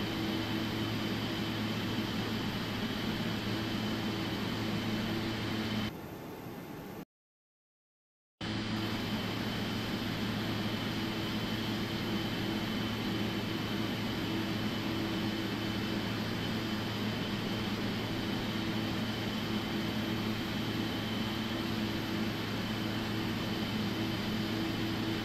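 Airliner jet engines in the FSX flight simulator drone steadily at takeoff, a broad even roar with a hum underneath that cuts out briefly into near silence before resuming unchanged.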